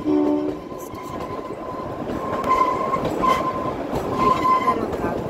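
The Kalka to Shimla toy train runs along its rails in a steady, close rumble, with sustained squealing wheel tones rising above the clattering carriages.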